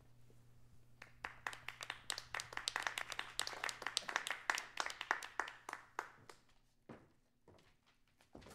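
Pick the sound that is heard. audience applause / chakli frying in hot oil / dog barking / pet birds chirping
audience applause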